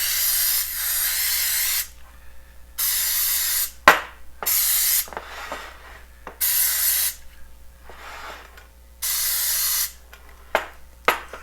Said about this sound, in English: now I'm going to grease by using a vegetable oil spray